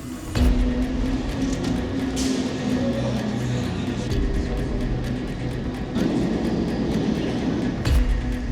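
A New York City subway train rumbles and rattles steadily, with metallic clanks and thuds over a constant loud roar of wheels and motors.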